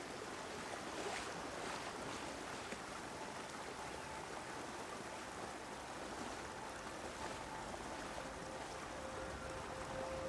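River water flowing in the game Everybody's Gone to the Rapture, a steady broad rushing wash with faint wind, continuous and even at moderate level with no talking.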